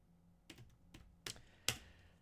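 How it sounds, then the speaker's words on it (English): Four separate keystrokes on a computer keyboard, quiet and close, tapped at an uneven pace with the last one the sharpest and loudest, against a near-silent background. "Let me type it out."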